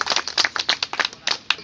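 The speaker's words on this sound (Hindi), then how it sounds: "जोरदार ताली बजाएं सभी।" A small crowd claps unevenly at a village tree-planting event organized by a youth council, with brisk, loosely overlapping claps that keep going steadily for a moment.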